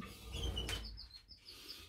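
Small aviary birds chirp in short, high tweets, a few bright calls scattered over a low background rumble with no talking.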